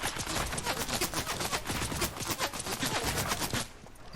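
Rapid gunfire from an opponent in the Fortnite video game, a loud, dense stream of overlapping shots that runs almost without a break, with no talking.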